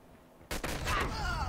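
Gunfire erupts in Call of Duty Mobile after a brief quiet moment, a loud burst of close shots that rings out and fades.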